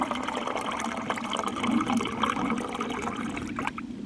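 Water running steadily from a rainwater butt at a remote mountain hut in the Wicklow Mountains, a continuous close splashing flow that carries on throughout with no voices, slightly easing near the end.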